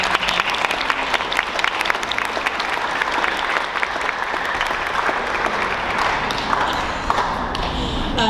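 Steady, dense applause from a school concert audience fills the space at an even level for several seconds, many hands clapping at once with a few sharper claps standing out.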